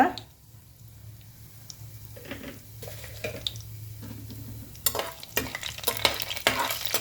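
Bay leaf, cinnamon sticks and cumin seeds frying in about three spoons of hot oil for a cabbage fry, with a soft steady sizzle and intermittent scrapes of a stirring spoon that grow busier and louder toward the end.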